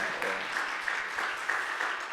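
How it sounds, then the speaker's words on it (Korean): Steady applause from a church congregation welcoming a guest at a Sunday service, even and sustained, with a faint voice briefly underneath. "박수로 환영할까요?"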